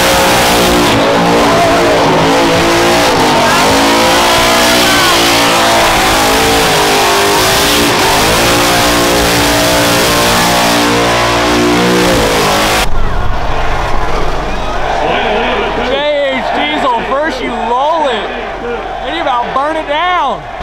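A race car revs hard at a burnout event, loud rising and falling engine roars filling the first half, then sharper, sweeping revs with crowd and voices in the background.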